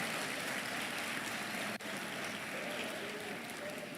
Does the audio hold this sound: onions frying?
no